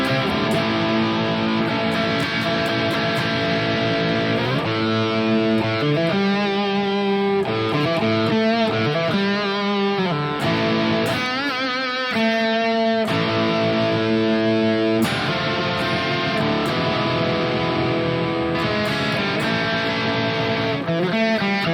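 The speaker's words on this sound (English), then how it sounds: "Nice crunch tone." Electric guitar played through a Harley Benton DNAfx Git Pro with a crunch tone, a long run of mildly overdriven chords and single-note lines, loud and continuous with no voices.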